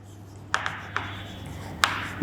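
Pen strokes scratching on paper while working out a Std 10 geometry similarity problem, a few short taps and scrapes spaced irregularly over a quiet background hum.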